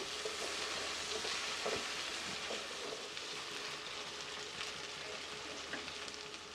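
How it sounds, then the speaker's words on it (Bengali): Beef tehari spices sizzle steadily in hot oil with garam masala added, a dense, continuous close-up crackle that holds at an even level throughout with no talking. "এখানে আমি গরম মশলা দিয়ে নিচ্ছি আর গরম মশলা দেওয়ার পরেও ভালো করে ভাজতে থাকবো"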